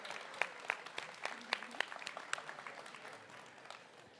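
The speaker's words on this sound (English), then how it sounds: "Give another round of applause to Jada." Light, scattered clapping from a small audience at a high school spoken word poetry event, with a few distinct sharp claps standing out over a soft, thinning patter that fades within a few seconds.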